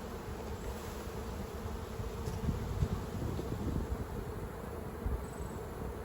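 Honey bees buzz in a steady, dense drone around an open beehive while two colonies are combined by the paper method at an apiary, close and continuous with no talking.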